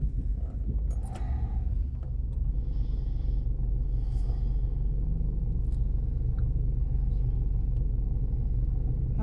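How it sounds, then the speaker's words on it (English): A car engine idling while it warms up, a steady low rumble that holds at an even level throughout, close by inside the vehicle, with no talking. "Had to warm up the car a little bit."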